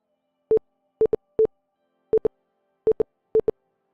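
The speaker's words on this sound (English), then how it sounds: "Here we go with the Morse code again." Short, clean electronic beeps on a call, in irregular single and paired pips like Morse code, spread over a few seconds against near silence.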